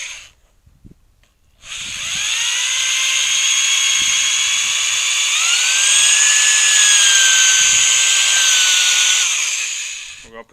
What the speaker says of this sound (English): what I'm going to do is pre-drill some holes to get the screws started